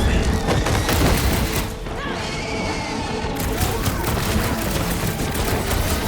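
Dense, loud gunfire fills a battle in the Guardians of the Galaxy video game, with overlapping shots, booms and crashes packed together and barely letting up. Voices come through partway.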